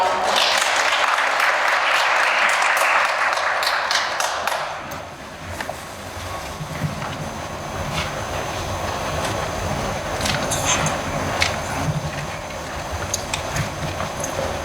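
Audience applause at a speech contest welcoming the next presenter, dense clapping for about five seconds that then fades into quieter scattered claps and room noise.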